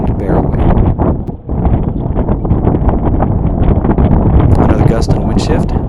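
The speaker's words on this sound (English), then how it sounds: "Another gust and wind shift." A strong wind gust roars over a sailboat under sail, loud broadband buffeting on the microphone with rushing water and creaking underneath, steady for several seconds.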